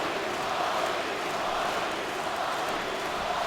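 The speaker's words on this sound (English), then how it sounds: "the crowd is loving it right now as they're chanting his name" Hockey arena crowd chanting Bobby Ryan's name during a Buffalo Sabres vs. Ottawa Senators game, a dense, sustained roar of many voices at a distance, steady and unbroken.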